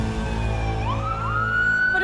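Ambulance siren wailing loud and close, its tone sliding steadily upward over a steady engine-like rumble, with no voices.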